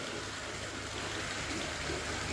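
Water gushing steadily from a horizontal borewell drilled into the side of a well, a continuous broad rushing sound, close and even, with no voices.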